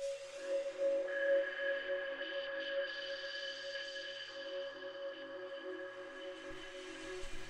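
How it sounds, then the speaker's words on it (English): A Korg Triton synthesizer plays the Frozen Glaciers atmosphere patch on a single held note, a quiet, airy, shimmering tone that sustains evenly with no other sounds. "So from the Korg Triton, Frozen Glaciers patch here."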